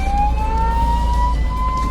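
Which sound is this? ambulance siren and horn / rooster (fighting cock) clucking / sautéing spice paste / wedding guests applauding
ambulance siren and horn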